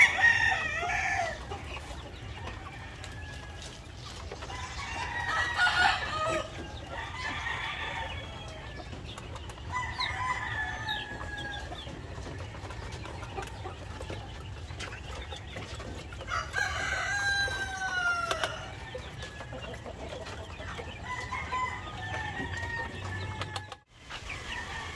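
Hens and roosters in a backyard flock laying area cluck steadily, with several roosters crowing at intervals over a low continuous background hum, fairly close and moderately loud.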